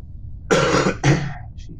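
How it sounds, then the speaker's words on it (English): A single person coughs twice in quick succession, a close, harsh burst followed by a second shorter one, with a faint trailing throat sound after. "Cannot get rid of that cough."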